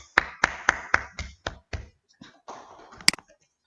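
A classroom group gives a short burst of applause, about six sharp, spaced claps, then scattered softer clapping and one final loud clap, close and with no talk.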